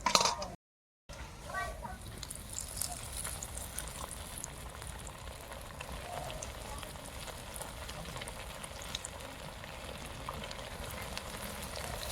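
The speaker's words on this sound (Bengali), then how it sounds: "সব কোপ্তাগুলো এইভাবে ভেজে নেব" Koftas bubbling and sizzling in hot oil, a continuous close frying hiss that runs steadily after a brief gap near the start, with a voice speaking briefly at the beginning.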